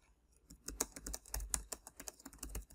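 Typing a comment on a computer keyboard, an uneven burst of crisp close key clicks with short pauses, heard alone in a quiet room.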